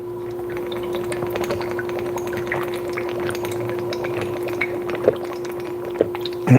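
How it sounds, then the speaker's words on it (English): Water runs steadily into a container with a continuous liquid rush under a faint steady hum, and a few small clunks come near the end. "let me get some water in here"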